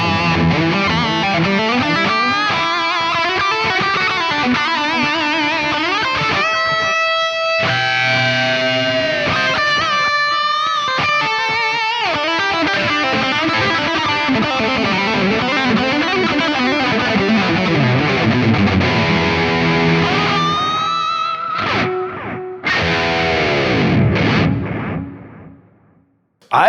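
Distorted metal electric guitar through a Line 6 POD Go preset with delay, playing loud riffs and sustained notes with echoing repeats trailing underneath, ending in a bending dive before cutting off.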